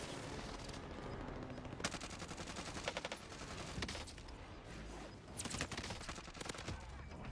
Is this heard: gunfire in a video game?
yes